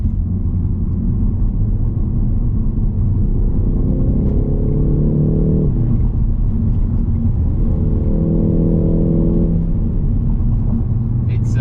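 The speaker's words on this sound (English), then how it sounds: "you can see here the rev matching from the gears" Inside a 2021 Ford Focus ST with 200 kW through the front wheels, a steady low engine drone rises and holds pitch twice as revs match through gear changes.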